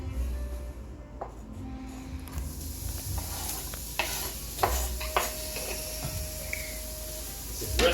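Chopped onions frying in a little oil in a pan, a soft steady sizzle with occasional stirring clicks and scrapes, close and moderately quiet, with no talk.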